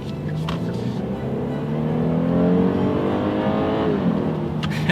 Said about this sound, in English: let's do a quick little acceleration here. We'll see how quickly we can get this G80 up to speed.